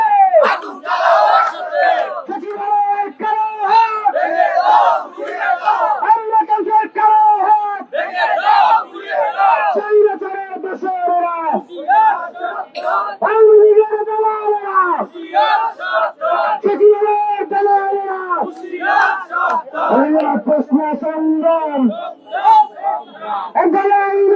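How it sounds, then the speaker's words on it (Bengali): A large crowd of protesters at the secretariat chants slogans in loud, rhythmic call-and-response bursts. The voices are close and sustained, with brief pauses between phrases. "তারা কিন্তু এই মুহূর্তে নানা ধরনের স্লোগান দিচ্ছেন"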